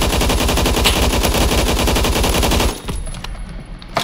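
AUG HBAR firing in Phantom Forces, a loud rapid automatic burst of evenly spaced shots lasting nearly three seconds, followed by a few scattered fainter shots and game noise.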